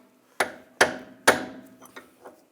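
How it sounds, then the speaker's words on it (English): Three sharp metallic hammer taps on a punch, loosening a rear CV axle from the differential on a 2009-2017 Volkswagen Tiguan 2.0L L4, close and evenly spaced, followed by a few lighter knocks. "I'm just going to give a tap right here with a punch just to separate it from the differential"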